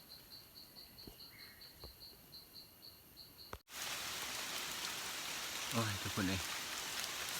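Crickets chirp in a steady pulse outdoors until, partway through, a dense hiss of rain falling on a rocky forest trail takes over, loud and continuous, while someone speaks briefly.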